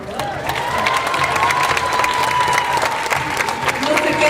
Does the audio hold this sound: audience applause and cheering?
yes